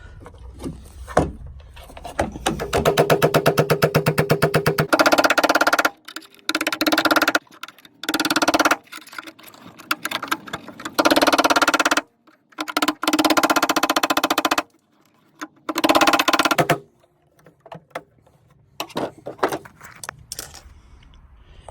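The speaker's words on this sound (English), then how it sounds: "I get up underneath it with my chisel and I start chiseling it back down to the bare metal" A chisel scraping glue back to bare metal on a rusty Ford Escape shock tower, loud harsh bursts of scraping repeated in irregular strokes with short pauses between, close up.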